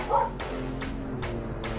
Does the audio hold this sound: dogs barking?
yes